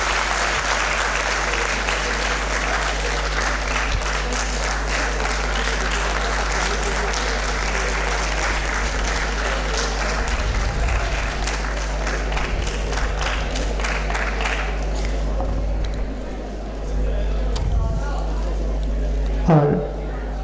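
Sustained applause from the audience fills the hall at the opening ceremony of a Sanskrit film festival, dense continuous clapping that fades slightly near the end with a brief louder thump.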